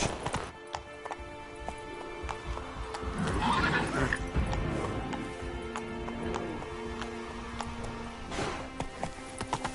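A horse galloping in the video game The Witcher 3, with rapid clip-clop hoofbeats and a whinny partway through, heard over steady game ambience.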